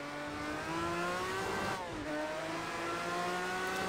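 In Project Cars 2, a Group C race car engine revs hard and climbs through gears at Hockenheimring, rising whine dipping at a shift then building again, moderately loud with no talk.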